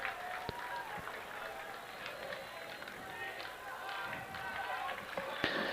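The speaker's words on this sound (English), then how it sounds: "Marquette's fan crowd's getting riled up." Marquette fans in the stands at a college baseball game cheer and clap in a steady, distant crowd roar. A commentator talks over the noise.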